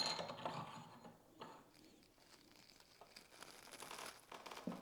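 A ratchet turning a reverse-thread bolt on a 2022 Honda Grom, giving quiet clicking and mechanical ratcheting in short bursts, close and faint, with some rustling.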